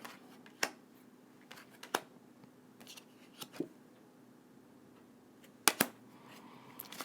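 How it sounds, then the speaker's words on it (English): Large tarot cards are shuffled hand over hand indoors, making scattered soft slides and sharp, papery slaps at irregular intervals over a quiet background. "This is going to just be a hand over hand shuffle."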